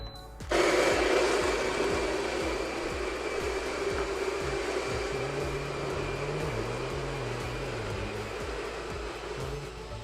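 An electric coffee grinder grinds coffee beans for a Chemex pour-over, a loud steady motorized whir starting abruptly and holding for about ten seconds, close up with no talking.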